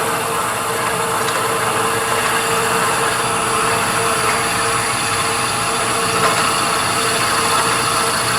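A small lathe drives a drill all the way through a soft redwood burl ornament at low speed, giving an even, unbroken motor whine with a faint grinding edge and no talk.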